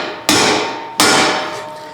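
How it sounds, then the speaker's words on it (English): Two sharp hammer blows strike a heavily rusted rototiller part being straightened, each a loud metallic clang about 0.7 seconds apart with a ringing decay and no talking. "if you have a flatter hammer like this, it's a lot better"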